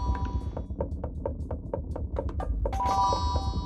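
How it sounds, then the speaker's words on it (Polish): A bell collectible in the video game Kao the Kangaroo gives off a string of bright, evenly spaced metallic chimes over a low game background, ending in a brighter shimmering ring, with no talking. "Tutaj mamy dzwoneczek, ok."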